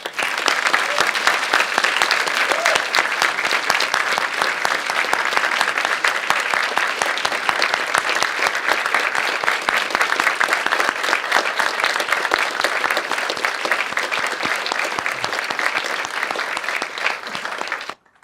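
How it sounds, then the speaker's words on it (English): A speech showcase audience gives Mayor Major Brent Taylor a long, loud round of applause, a dense, sustained roar of many clapping hands that holds steady for the full length before cutting off abruptly. "let us give Mayor Major Brent Taylor one more big round of applause."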